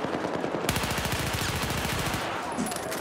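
A P90 submachine gun fires from the hip in the video game Battlefield, a loud, rapid, sustained automatic burst lasting about a second and a half amid dense battle noise.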